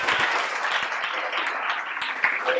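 A classroom audience at a Swahili lesson claps for a student, making a dense, even burst of applause from many hands that lasts the whole moment.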